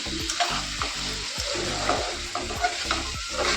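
Whole Bombay duck (loitta) fish frying in a pan, a steady close sizzle with bursts of spattering and repeated scraping thumps of stirring, no voices.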